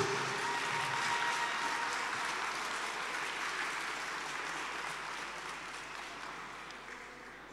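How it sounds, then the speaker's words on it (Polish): A crowd at a Warsaw boxing fight night applauds the youngest boxing academy students, a dense, even wash of clapping from a large hall that slowly fades over several seconds. "Wielkie brawa, proszę o przywitanie najmłodszych."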